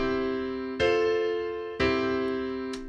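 A short chord progression is played on a keyboard-like instrument, three sustained chords struck in turn. Each one rings and slowly fades before the next, heard close with no talking.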